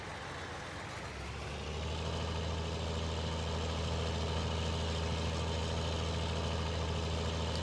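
Tractor engine in Farming Simulator 19 drones steadily at a loud idle-like hum, rising slightly in level after the first couple of seconds and then holding constant, with no talking.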